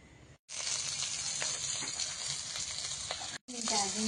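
Onion and green chilli sizzle loudly in hot oil in a pan as a tempering for a taro curry, a steady close frying hiss broken by brief cuts, with a voice speaking briefly near the end.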